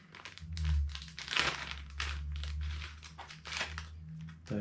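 A plastic bag from a home Covid-19 rapid test kit crinkles and crackles up close in a continuous run of rustling bursts, handled and pulled open with no talking.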